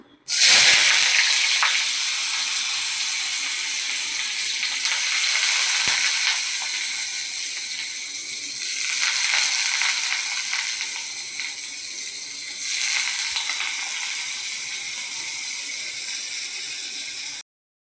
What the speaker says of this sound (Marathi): तेल तापलेलं आहे. थोडासा हिंग घालूया आपण.